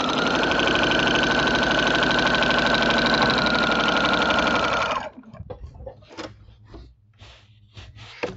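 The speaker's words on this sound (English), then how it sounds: "because the walking foot's going to do the work" A sewing machine fitted with a walking foot quilts fabric in a loud, steady whirring run for about five seconds, then stops, leaving faint clicks and handling noises.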